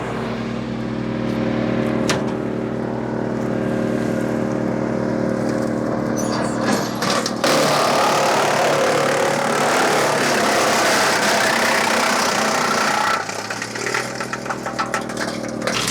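A Solis H24 24HP compact tractor drives an 8 inch PTO wood chipper feeding pine: a steady engine drone, then a loud, rough grinding roar for several seconds as the wood chews through. It eases back to the droning idle at the end.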